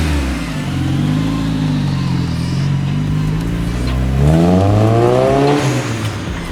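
A car engine revs hard and roars past close by, pitch climbing and falling through gear changes, then surging again near the end, loud and continuous with no talking.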